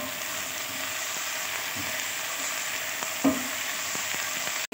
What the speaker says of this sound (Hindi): टमाटर भी ऐड करेंगे हम, और अच्छी तरीके से फिर जो है इसको फ्राई कर लेंगे।